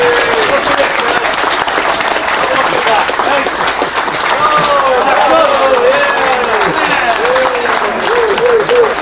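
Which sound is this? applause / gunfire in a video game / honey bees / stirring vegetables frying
applause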